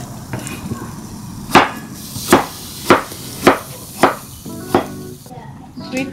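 A knife chops food on a board while barbecue ingredients are prepared, six sharp distinct chops at an even pace, with a voice talking faintly between them.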